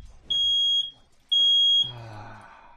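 Two evenly spaced, loud, piercing beeps of about half a second each come from a malfunctioning fire alarm, followed by a brief burst of other sound.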